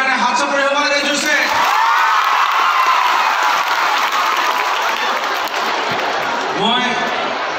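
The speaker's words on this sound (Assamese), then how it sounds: "মন্ত্ৰীৰ কাৰণে হাত চাপৰি হ'ব লাগে জোৰছে" An audience at an award ceremony in Jorhat breaks into loud, sustained applause and cheering for a minister, with whoops and shouts rising through it; a voice speaks over the start and near the end.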